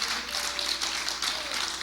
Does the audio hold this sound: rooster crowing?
no